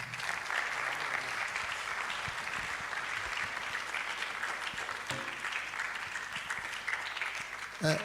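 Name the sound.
audience clapping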